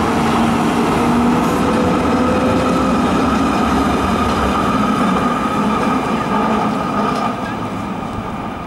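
A tram crossing a bridge in Basel, Switzerland, makes a steady, loud rolling rumble with a faint squeal that runs the whole time and eases slightly near the end.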